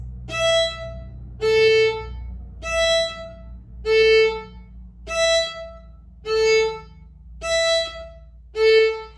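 Eight short, separate bowed violin notes crossing between open strings at an even pace, alternating between higher and lower pitches, with a soft low hum underneath.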